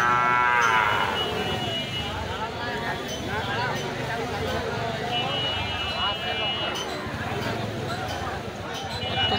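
Deshal bulls at a busy cattle market give loud, drawn-out moos, one close and strong at the start, over a constant crowd murmur, hoof clatter and people talking.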